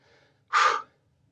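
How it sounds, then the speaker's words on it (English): A single sharp, heavy breath, gasping in through a stuffed nose during a dumbbell HIIT workout, close and alone, with faint quieter breathing around it. "I felt like I was breathing harder than usual today"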